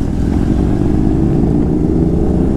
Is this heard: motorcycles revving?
yes